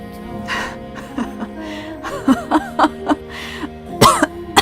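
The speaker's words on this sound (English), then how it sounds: "Oh god, I'm laughing and coughing." Someone laughs and coughs at the same time, a few rasping coughs and throat-clearing bursts breaking through breathy laughter, close and fairly loud over faint background music.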